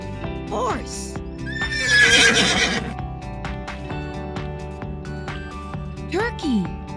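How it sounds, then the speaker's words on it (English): A horse whinnies loudly and close, with a long shrill neigh in the middle. Clip-clop hooves and a steady musical backing play underneath. "Horse."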